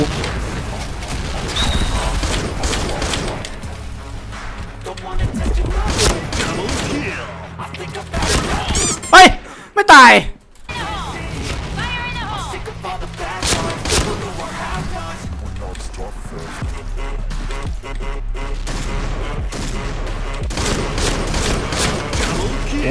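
Shotgun fire in the online shooter Point Blank: bursts of loud, close blasts with clattering impacts, a dense flurry near the middle, and a player's voice talking over the action.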